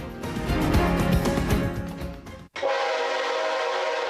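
A freight train hauling highly volatile crude oil into Hampton Roads, its horn and rolling rail noise loud and close for about two and a half seconds before a sharp cut to a steadier, thinner hum.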